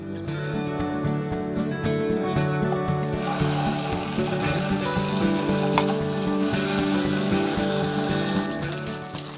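Tofu sizzles and crackles in hot oil in a pan, a continuous close frying hiss with occasional scraping stir sounds and no talk.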